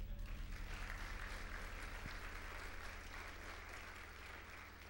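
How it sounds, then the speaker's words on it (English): Audience applause in a hall, dense steady clapping from many people that holds fairly even, then tapers slightly toward the end. "I think they deserve a round of applause for that."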